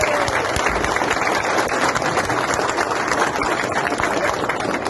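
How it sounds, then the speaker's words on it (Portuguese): A large crowd at a meeting of elected mayors in Tocantins, Brazil, applauds steadily, dense continuous clapping that stays loud and even throughout, with no voices standing out. "vamos fazer uma salva de palmas"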